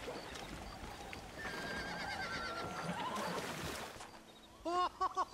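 A horse in Red Dead Redemption on PS3 gives a few quavering whinnies near the end, over a busy background of ambient noise and murmuring voices.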